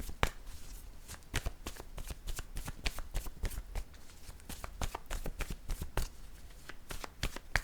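Playing cards shuffled and dealt in a tarot-style reading, a quiet close series of crisp riffles and sharp snaps at an irregular rhythm, heard alone without talk.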